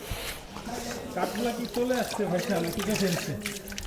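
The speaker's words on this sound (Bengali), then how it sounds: "উপর থেকে পানি পড়তেছে বৃষ্টির মতো।" Water falls from overhead like rain in a steady, hissing patter that runs the whole time beneath continuous close talking.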